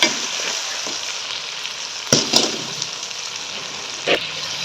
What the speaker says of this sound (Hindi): तो थोड़ा सा भून देते हैं।